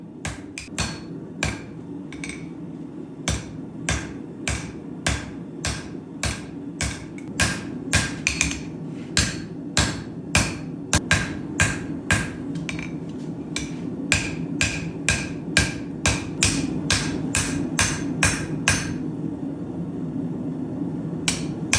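A hand hammer strikes a damascus steel billet over and over, each blow sharp and ringing, in a steady rhythm of about two strikes per second that goes on throughout with no talk.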